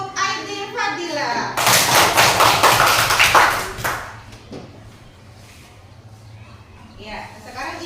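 An Islamic religious education class applauds a student, a dense burst of children's clapping with thumps after a teacher's speech, then fading into quieter chatter.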